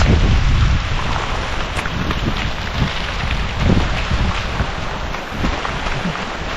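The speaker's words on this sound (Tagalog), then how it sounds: "Ay, maulan na talaga." Heavy rain pours down in a loud, continuous roar, with low rumbling gusts underneath.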